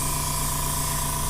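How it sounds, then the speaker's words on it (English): An airbrush sprays Vallejo Mecha Color matte varnish over a Star Blazers Zoellugut-class combat vessel model, a short steady hiss with no break. "I'm just going to spray over this section real quick."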